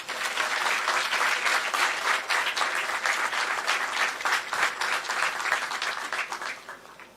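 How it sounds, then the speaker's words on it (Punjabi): Loud, sustained applause from a crowd welcoming the Chief Minister at an official appointment-letter ceremony, dense clapping that holds steady, then tapers off near the end. "ਜ਼ੋਰਦਾਰ ਤਾੜੀਆਂ ਤੁਹਾਡੀਆਂ"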